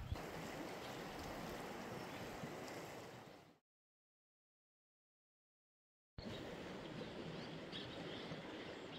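A huge river rushes beneath a bridge on a mountain trail, a dense, loud wash of flowing water that cuts out to silence midway and then resumes just as strong.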